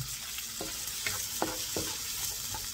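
Butter and onions sizzling in a pan, a steady hiss broken by several irregular stirring scrapes and taps, close and moderately loud with no speech.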